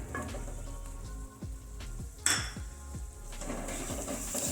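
Tomatoes go into a sizzling spice mix in a pan for a potato and mungre sabzi: a continuous frying hiss, with several sharp clanks of a utensil against the pan and a louder burst of sizzle midway.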